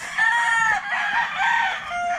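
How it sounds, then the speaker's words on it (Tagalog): Chickens on a farm, with a rooster crowing clearly twice between nearby hen clucks. "pakita ko lang sa inyo yung mga manok namin"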